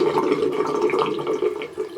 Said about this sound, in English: I'm going to lift it out of the conditioner water